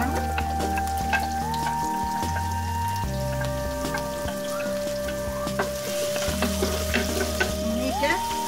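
Continuous sizzling and crackling of onions frying in hot oil, a dense steady hiss with occasional pops, close by.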